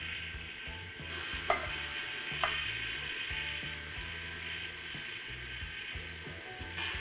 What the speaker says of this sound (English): we're going to put our mixer on a low speed